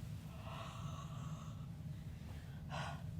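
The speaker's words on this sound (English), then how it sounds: "And now I'm just going to use some warm breath" Two soft, breathy exhalations of warm breath are blown onto a rubber stamp inked for papercraft stamping, close and quiet, the second short and sharper, over a low steady background hum.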